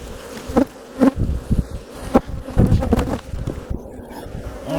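Honey bees buzz loudly around an opened hive during a UK beekeeping inspection, a dense steady hum with close, rising and falling bursts as agitated bees fly past, no talking.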